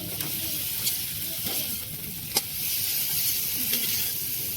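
Fried prawns added to a pan with ginger paste sizzle in a continuous moderate hiss, broken by a few sharp clicks of a spatula stirring against the pan, with no speech.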